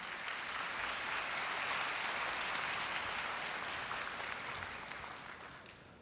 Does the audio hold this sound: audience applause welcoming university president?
yes